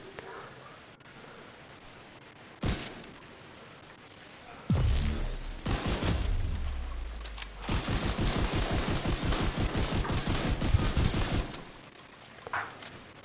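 Shots fired at a target dummy in The Division 2 arrive as a single sharp crack, then a burst with a heavy thump, followed by a long, fast run of automatic fire that stops abruptly into quiet.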